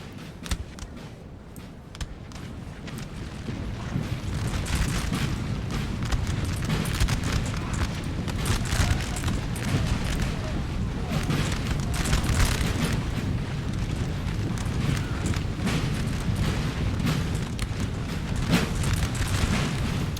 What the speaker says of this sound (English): He's got his 6-pounder guard artillery good to go.